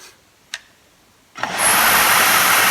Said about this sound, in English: So I hope this blower motor will work